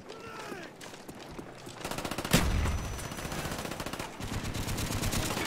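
M60 machine gun fire rattles in rapid, dense bursts in a video game, loud and close, with a heavy impact boom midway and continuous automatic shots carrying on afterward.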